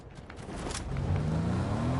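A car in a video game drives off, its engine building and climbing in pitch over a couple of seconds with a low steady rumble.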